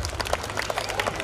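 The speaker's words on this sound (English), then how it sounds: "Let's give a big round of applause" Audience applause at a school stage event at St. Ignatius High School, a dense, steady patter of clapping close by, with some scattered louder claps and faint crowd noise underneath.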